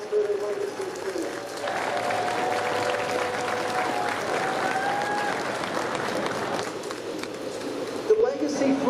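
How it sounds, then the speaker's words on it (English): Ceremony audience applauding the retirement of BART's legacy fleet of rail cars in service since 1972, a steady sustained clapping crowd lasting several seconds with voices mixed in. "let's have a round of applause for the legacy fleet."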